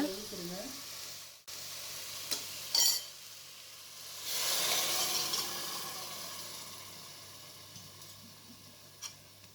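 Cooked mutton, boiled with chilli powder, turmeric and salt, is poured into a pan of kurma gravy, raising a loud hissing sizzle midway that fades back to a gentle bubbling, with a few light clinks around it.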